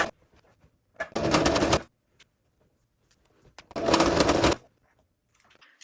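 A sewing machine stitches a handbag made from a Gucci dust bag: two short, rapid bursts of whirring, chattering stitches about a second each, separated by quiet pauses with faint handling noises.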